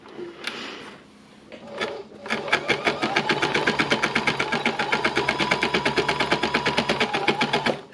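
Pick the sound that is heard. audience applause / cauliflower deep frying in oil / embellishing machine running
embellishing machine running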